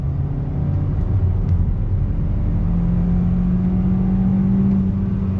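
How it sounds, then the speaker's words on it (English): A 2021 Kia K5 with the 1.6 liter engine pulling away on throttle in sport mode, a steady engine drone and road rumble from inside the cabin with a rising tone as it accelerates, continuous and fairly loud. "Let's see what the on throttle feels like as we roll out on the road here."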